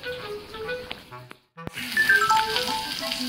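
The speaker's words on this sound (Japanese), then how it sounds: "焼きそば作ってます" Yakisoba noodles sizzle and crackle steadily in a hot pan, close and moderately loud. The sizzle cuts out briefly midway, then returns stronger.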